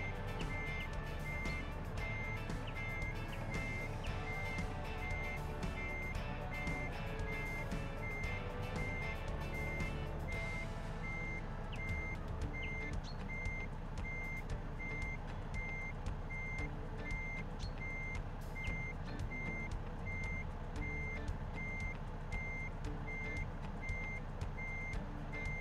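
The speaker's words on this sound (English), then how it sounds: "it does feel a little bit odd to be pushing the brake to make the truck reverse" Steady electronic reversing beeps from a truck backing in, set in the American Truck Simulator game. They repeat evenly throughout over a constant loud engine drone and music, with no talk.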